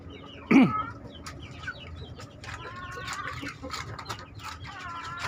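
A brood of native village hens by a coop gives one short, louder cluck, followed by faint, scattered clucks and chirps over a steady low outdoor background.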